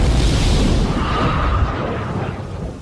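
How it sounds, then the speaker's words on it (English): Chemicals ignite in a reaction chamber and burst out in a loud, close explosive bang with a heavy rumbling blast that fades gradually, heard on its own. "The exploding chemicals have nowhere to go but out."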